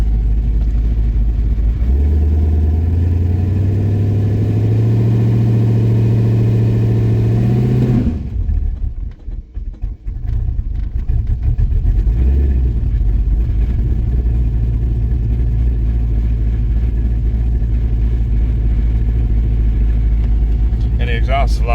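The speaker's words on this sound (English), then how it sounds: "exhaust is a lot quieter where it's actually drivable" A car with a fresh Holley Terminator X setup and quieted exhaust rumbles loudly, revving in rising steps before a brief drop and settling into a steady, deep idle drone close to the microphone.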